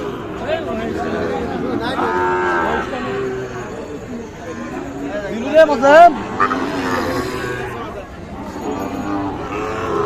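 A Sahiwal calf at a busy cattle market moos in short calls amid crowd chatter and people bargaining, with a passing vehicle in the background.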